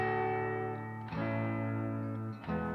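A lo-fi electric guitar with light crunchy distortion and reverb plays sustained chords, each strum ringing out and changing about every second and a half, upfront and alone.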